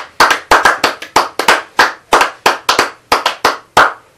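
Close, loud hand clapping at a church gathering: sharp claps in a steady rhythm, with some claps closely doubled, repeating for several seconds with no talk.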